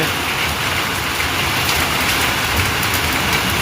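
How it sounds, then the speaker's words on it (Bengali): Rain falling in Sylhet, a dense, loud and continuous hiss of drops on surfaces, steady throughout with no voices. "আজকে আল্লাহ রহমতের বৃষ্টি হচ্ছে"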